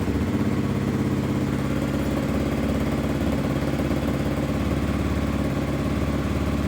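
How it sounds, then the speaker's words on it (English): A Kawasaki KLX 300 motorcycle engine idling steadily in a garage during an exhaust install, producing a dense continuous close-up rumble with no voices over it. "I'm just gonna start up the KLX."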